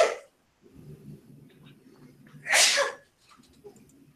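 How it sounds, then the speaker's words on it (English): A single loud, close sneeze in the Warframe game, preceded by a brief breath and followed by faint low background sounds. "By sneezing?"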